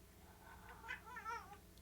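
At night a cat yowls in a few drawn-out, wavering meows, faint and distant against a low background hum.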